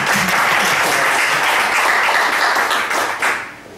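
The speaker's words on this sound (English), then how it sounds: "please give him a round of applause and welcome" Loud audience applause welcoming a speaker at a business talk, close dense clapping that holds steady for a few seconds before tapering off.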